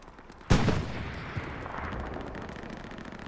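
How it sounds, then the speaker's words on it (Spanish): A single sharp gunshot in the video game Hell Let Loose, loud and sudden, followed by a long decaying rumble and a fainter second report. "cuidado que abrimos fuego contra el pin de comandancia"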